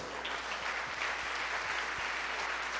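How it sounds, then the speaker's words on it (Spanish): A church congregation claps together as an offering of praise to God during a sermon, a sustained, fairly soft wash of many hands with a few sharper claps standing out. "usted le brinde una ofrenda de aplauso al Creador"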